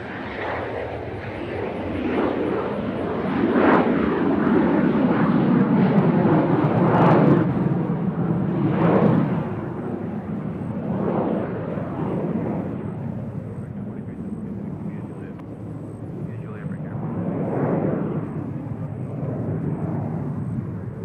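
A silver plane takes off for Vero Beach from Nashville International Airport, its engine roar loud and sustained with rising surges, while voices talk over it throughout.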